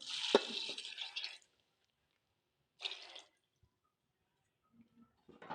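Water poured into a pressure cooker of spiced chickpeas in two short splashy bursts, separated by a quiet gap, with a few faint clinks afterward.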